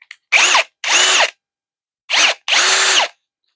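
A cordless power drill spins an Allen key bit to back out screws on a Redmax backpack blower, four whirring bursts in two pairs, the motor revving up and winding down each time, loud and close with no talking.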